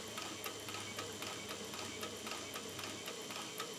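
A dedicated strap-sewing machine stitching a firefighter suspender strap, producing a quiet, rapid, evenly spaced ticking and clatter of needle strokes with a faint motor whir underneath.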